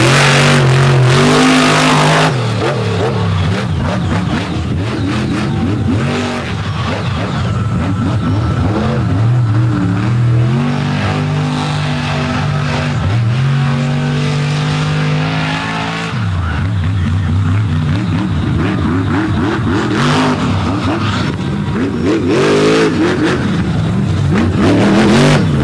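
A monster truck roars around an oval dirt track at a 2024 show in Naples. The engine revs hard and loud throughout, surging and dropping in pitch with tire noise, and drowns out all else.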